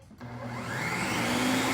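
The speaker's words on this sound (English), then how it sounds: "So next I'm gonna blend up the soup." A blender pureeing butternut squash soup starts up with a click and quickly rises to a loud, steady whirring drone, its motor pitch climbing slightly as it runs, with no talk.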